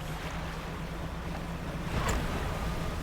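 Ocean waves and wind in the fishing game Dredge, a steady rushing wash of open sea with a slight swell building near the end, no voices.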